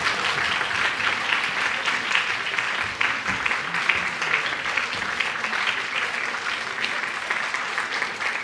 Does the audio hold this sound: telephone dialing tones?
no